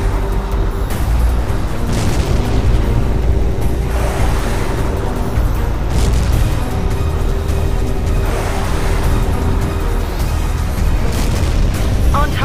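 Explosions from destroyed ground units roar through a Tom Clancy's H.A.W.X. 2 combat flight mission, with loud continuous jet engine rumble and repeated booming blasts under radio chatter.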